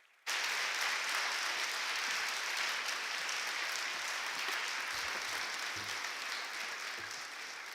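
A university crowd breaks into sustained, loud applause and cheering for representatives walking onto the stage, a dense wash of clapping that starts abruptly and holds steady to the end.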